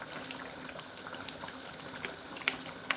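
A pot of water boiling with sesame seed paste for Krane Krane, a low steady bubbling simmer with a few sharper pops and clinks near the end, fairly quiet and without voices.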